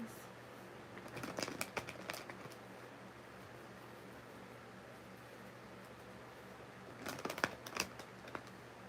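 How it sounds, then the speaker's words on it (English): A deck of tarot cards is shuffled up close in two short bursts of quick riffling flutters separated by a quiet pause. "One more shuffle."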